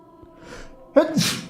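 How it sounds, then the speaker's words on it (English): A single sneeze, a short breathy intake followed by a sharp explosive burst, close and clear. "I need to sneeze."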